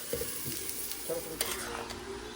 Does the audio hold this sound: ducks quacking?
no